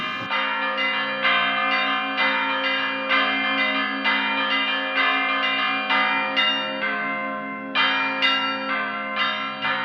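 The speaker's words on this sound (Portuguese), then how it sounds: "Quem está marcando o repique é os sinos grandes. E a variação, o acompanhamento está sendo feito no sino pequeno e no sino médio." Large, medium and small church bells of a Minas Gerais town ring the Senhora Morta repique, played soft and unhurried: big bells mark a steady pulse while the smaller ones weave a continuous ringing accompaniment.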